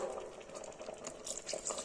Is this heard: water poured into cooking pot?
yes